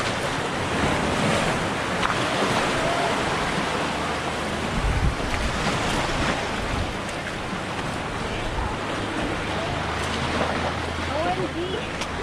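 Sea waves at high tide on a rocky Pangasinan coast, a loud continuous wash of surf mixed with heavy wind buffeting the microphone.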